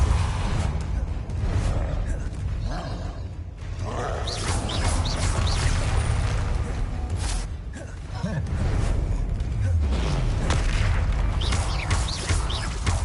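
Spell blasts in the Hogwarts Legacy video game, including the Compulso spell, a run of booming bursts and whooshing impacts scattered through a busy combat soundscape, with several loud hits separated by brief quieter gaps.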